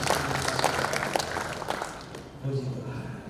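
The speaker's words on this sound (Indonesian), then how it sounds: "Boleh kita kasih tepuk tangan kita sekalian" A congregation claps during a church wedding blessing, a brief burst of applause mixed with voices that quickly fades, leaving someone talking.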